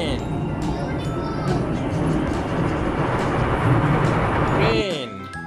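Train sound effect in a children's ABC phonics song, a loud continuous rumbling roar of a passing train that fades near the end, with speech heard over it.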